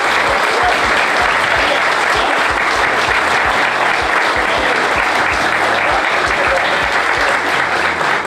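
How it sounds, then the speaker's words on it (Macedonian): An audience claps steadily at a folk music CD promotion event, dense sustained applause at an even level throughout with no voices standing out. "Да молам еден аплауз за него."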